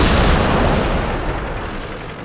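Heavy tank cannon fire in World of Tanks during a clan wars battle: a loud, booming blast at the start that rolls into a long, dense rumble, fading slowly over a couple of seconds, with no voices.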